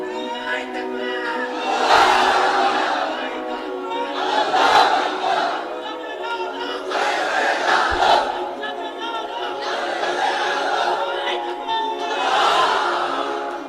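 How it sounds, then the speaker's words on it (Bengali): Large crowd at an Islamic sermon gathering roars takbir in unison, several long swelling shouts of Allahu Akbar repeated in waves. "তাকবীর পড়েন তো দেখি, আল্লাহর নামে পড়েন, লিল্লাহি তাকবীর"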